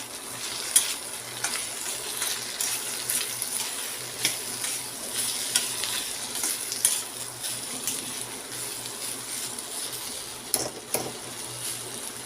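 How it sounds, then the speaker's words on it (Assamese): Okra, beans, teasel gourd and potato sizzle in a pan with turmeric and salt as a utensil scrapes and stirs, with occasional light metallic taps, steady and close. "এতিয়া খুব ভালদৰে মই লৰাই ল'ম।"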